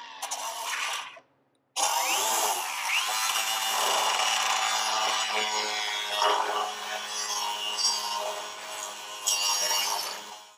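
A power cutting tool slices through a tack weld on a steel tube during a mini bike trike fork build, making a loud, sustained, high-pitched whine that breaks off briefly near the start and then runs steadily close to the mic.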